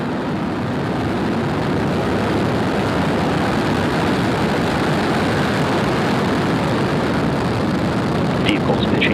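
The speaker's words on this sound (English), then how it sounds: "Ignition and liftoff." A SpaceX Falcon 9 rocket ignites and lifts off from Cape Canaveral, Florida, with a loud, continuous roar of broad rumbling noise that is heard from a distance and holds steady throughout, with a voice speaking over it.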